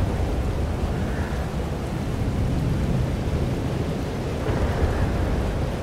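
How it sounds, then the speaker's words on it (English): A thunderstorm in Life is Strange: Double Exposure roars as a dense, steady wash of heavy rain with a low rumble of thunder, loud and unbroken, with no voices. "There's a storm."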